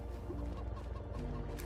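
Chickens clucking in the farming video game Farming Simulator 25: soft, low, scattered clucks over a continuous ambient farmyard background, faint and with no voices.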